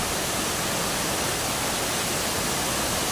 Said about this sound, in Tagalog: So ito na po yung pinaka final na falls.